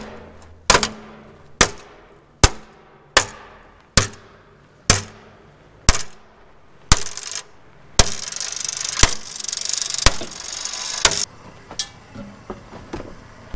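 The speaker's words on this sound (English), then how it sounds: "Tyre go boom" Tyre bursting during a barley harvest in Jamestown, South Australia: a series of sharp, loud bangs roughly once a second, each trailing off, followed by a rougher stretch of crackling, close by and without talk.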